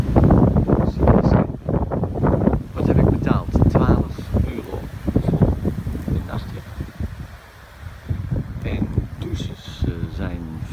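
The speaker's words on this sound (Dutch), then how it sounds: "ik weet dat er heel veel wind is" Strong wind buffets the microphone beside a dyke near the Gorinchem marina and camper site, rumbling in loud gusts beneath someone talking throughout.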